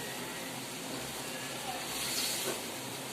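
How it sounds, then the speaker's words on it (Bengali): Small freshwater shrimp (ichha) sautéing in a pan beside bottle gourd, giving a steady, close hiss and sizzle throughout with no talk. "এই যে ইসা মাছ কষানো হচ্ছে"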